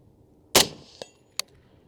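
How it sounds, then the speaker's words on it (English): A suppressed rifle shot with Winchester ammunition fired at a steel target about 120 yards away, a sharp muffled crack followed by faint metallic clangs from the steel, then a second brief ring. "I'll just shoot fast at that steel."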